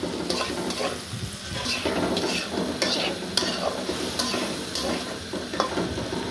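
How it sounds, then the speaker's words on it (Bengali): Small fish frying lightly in a pan, a steady close sizzle with scraping stirs and occasional light clinks, no talking. "তো এটাকে হালকা একটু ভেজে মশলা দিয়ে দিব"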